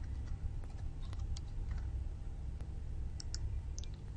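A computer mouse and keyboard click and tap softly at a desk. The sharp ticks are scattered and irregular, faint and close, over a low background hum.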